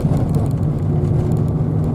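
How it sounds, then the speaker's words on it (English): A bus engine idles while warming up in snow at a mountain hairpin, a steady low rumble that holds close and even for the whole stretch, with no voices over it. "Bus is getting warmed up"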